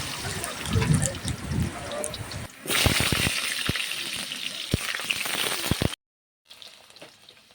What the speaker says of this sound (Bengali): এখন আমি আলুগুলো ঢেলে দেবো কড়াইয়ে